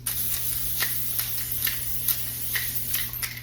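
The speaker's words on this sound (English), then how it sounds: "let me spray because I was forgetting to do that yesterday" Cooking spray hisses onto a baking sheet lined with foil while oatmeal peanut butter chip cookies are prepared, in a string of short, sharp bursts repeating at a quick, uneven rhythm over a steady low hum.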